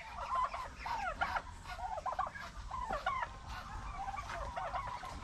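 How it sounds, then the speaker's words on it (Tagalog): Turkeys, geese and ducks gobble, honk and chatter at feeding time, a busy overlapping run of nearby calls that carries on steadily throughout. "Magpapakain lang kami ng bibi."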